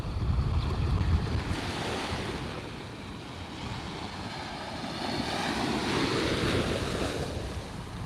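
Ocean surf at Tigertail Beach, Florida, washes in and out, a broad steady roar with gusty wind buffeting the microphone, no voices.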